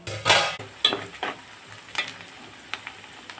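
Three large onions go into about 100 grams of hot oil for a boneless chicken fry, a close series of sharp sizzling bursts and stirring scrapes that come in uneven pulses and fade between strokes, with no talk.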